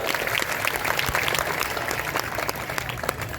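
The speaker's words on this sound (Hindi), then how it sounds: "एक बार इन बच्चों के लिए जोरदार तालियां आप सभी लोग बजा दो।" Loud, steady applause from a large audience at a Gayatri Mahayagya religious gathering with poetry recitation, sustained clapping throughout with no pauses.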